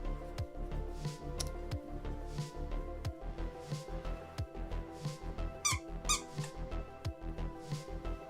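A squeaker is pressed inside a fluffy plush toy while it is stuffed, giving a string of sharp, close squeaks of varying length over soft rustling and handling noise, with one brief high chirping burst partway through.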